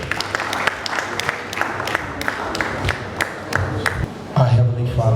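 An audience at the 2025 Global Excellence Summit & Awards claps for a reverend coming up to give the opening prayer. The claps are scattered and distinct rather than a dense roar, and a voice starts speaking near the end.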